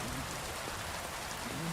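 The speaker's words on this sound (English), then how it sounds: "it's raining." Rain falls in the video game Kingdom Come Deliverance 2, a faint steady hiss of drops on the ground with no voices over it.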